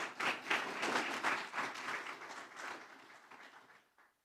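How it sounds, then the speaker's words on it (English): Audience applause for visiting students at a youth parliament sitting, a steady wash of many hands clapping at moderate level that tapers off and fades out near the end. "Can we have a round of applause for the Clifton Hunter students?"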